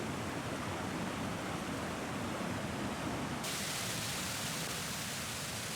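Jägala waterfall in Estonia, partly frozen in winter, roaring as a loud, steady broadband rush of falling water heard close up, with no voices over it.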